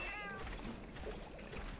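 A cat meows once, softly, in the Monster Hunter Freedom Unite video game, set against a steady low background hum.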